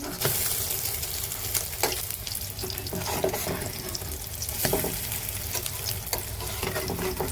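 Three slices of egg toast made with milk fry in a large wok, a steady broadband sizzle running throughout with a few sharp scraping knocks from a utensil, close and fairly loud.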